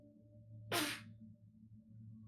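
A single short, sharp sneeze bursts out once, fairly close, over a faint background hum, with quiet surroundings before and after.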